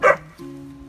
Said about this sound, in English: This is my dog barking.